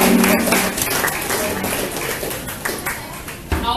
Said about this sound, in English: Give yourself another round of applause.